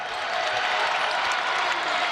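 A packed basketball arena crowd roars and claps through a second-chance comeback, a dense, loud, unbroken wall of cheering and applause.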